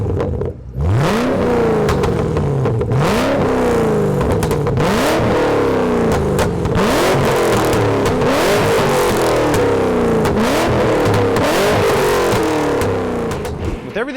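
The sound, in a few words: Shelby GT500 exhaust revving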